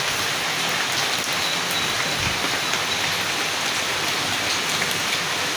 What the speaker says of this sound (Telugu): మామూలుగా పడట్ల వర్షం బీభత్సంగా పడుతుంది